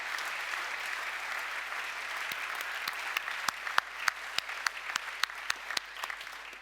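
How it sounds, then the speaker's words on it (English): Applause from an audience at a 2017 opening ceremony as speakers come to the stage, a soft wash of clapping that grows into sharper, distinct claps toward the end, moderately close and without talk. "give a round of applause"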